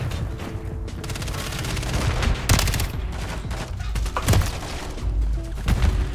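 Gunfire rattles through a Call of Duty Modern Warfare match in dense, loud bursts, with sharper shots standing out over a continuous game soundscape.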